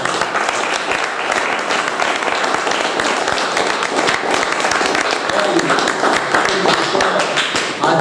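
Dense, sustained audience applause from a crowd at an Italian book talk about a First World War diary, steady and loud throughout with many overlapping claps.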